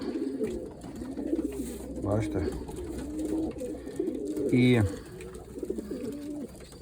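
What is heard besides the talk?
pigeons cooing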